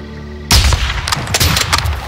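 Sniper rifle shots ring out in Call of Duty's All Ghillied Up mission: silence, then a sudden loud blast followed by several more booming reports and echoing cracks in quick succession.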